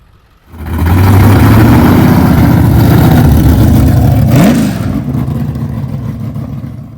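A Mopar muscle car with a 383 4-barrel V8 starts and revs loudly up close, its deep throbbing roar rising through a sharp blip before settling back into a steady rumbling idle.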